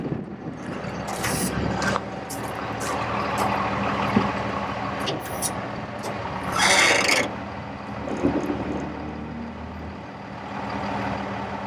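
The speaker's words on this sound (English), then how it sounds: "We'll raise your outriggers at this time." A 2005 Freightliner M2 4x4 bucket truck with an Altec LRV55 boom idles steadily while its outriggers raise, a continuous engine and hydraulic drone with short hissing bursts, loud and close, no talking.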